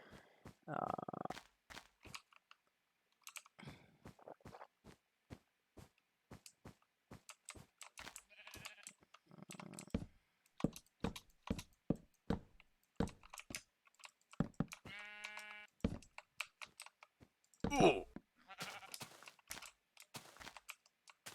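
Scattered keyboard clicks and typing come and go, broken by a couple of short, nasal sheep bleats from Minecraft, and a voice talks briefly.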